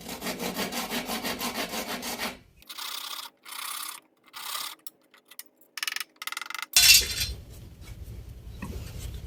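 Sawing and scraping at a bamboo pole to cut a small hole, with steady rhythmic strokes at first, then short broken bursts of scraping and a sharp crack before a rougher grinding finish, close and fairly loud.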